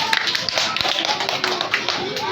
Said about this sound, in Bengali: ওর জন্য হাততালি